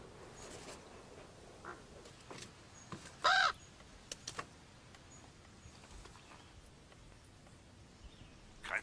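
Crows caw in a forested valley in the heart of Austria, giving a few brief, fairly close calls in a short cluster over quiet woodland ambience, then a faint call again near the end.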